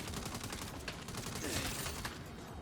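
Rapid, continuous gunfire rattles in the Saints Row video game, a dense stream of faint, distant shots with no pauses and no talking.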